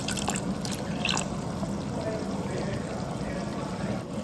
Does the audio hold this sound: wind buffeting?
no